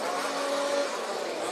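RC off-road racing cars running on a track at a Czech buggy race, a continuous loud motor whine with a sustained high tone, heard alone without talk.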